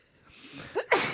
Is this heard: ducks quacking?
no